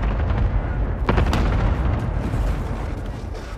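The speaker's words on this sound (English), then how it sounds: "Enemy cluster strike incoming. Take cover." Cluster strike explosions in Call of Duty Modern Warfare, a Domination match on the Azhir Cave map, rumble as dense, continuous booming with a sharper blast burst partway through, loud and sustained throughout.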